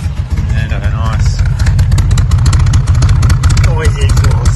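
A 1968 Volvo 142 rally car with an electronic distributor, steel timing gear and noisy exhaust idles loudly and lumpily at close range in Australia, its throbbing pulse steady throughout, with a person talking over it.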